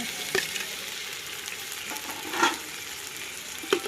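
Tomatoes go into a hot pan of pulao with mint and coriander, giving a soft continuous sizzle with a few quick louder pops and stirring scrapes, fairly faint and steady throughout with no talking.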